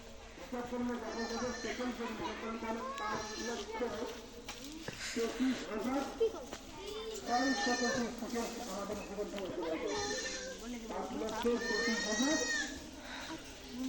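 Goats bleat repeatedly over a steady rustle of munching and leaves, several calls overlapping at close range, with some voices in the background.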